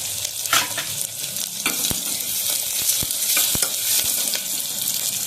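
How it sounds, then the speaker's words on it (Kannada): Garlic dropped into golden onions frying in a pan for okra sambar, a steady close sizzle with scattered light clicks and scrapes of stirring, no voices. "ಸ್ವಲ್ಪ ಬೆಳ್ಳುಳ್ಳಿ ಹಾಕ್ತಾ ಇದ್ದೀನಿ."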